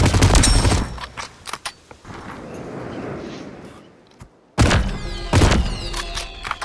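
Rapid bursts of MP9 submachine gun fire in a video game, loud close automatic strings at the start, a quieter lull, then more sharp volleys near the end.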